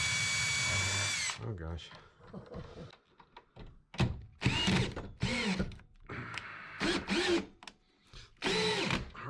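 A power drill drives screws into a bathroom floor with one loud whirring burst at the start, followed by people talking.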